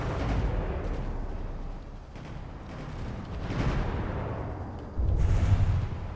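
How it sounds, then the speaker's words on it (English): Deck-mounted battleship guns firing in a naval combat game, a series of deep booming blasts and rumbling explosions at irregular intervals, with a heavier burst near the end. "these kind of deck-mounted guns got to fire on the Peregrine"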